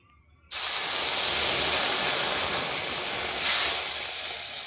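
Water poured into a hot kadai, ahead of cooking jaggery syrup, bursts into a loud, steady steam hiss after a brief quiet moment, holding strong for several seconds and easing only slightly toward the end.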